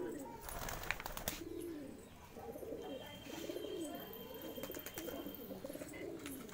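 Pigeons of the Andhra breed coo in a loft, their soft, repeated rolling calls close by, with a few flutters and scuffs around them.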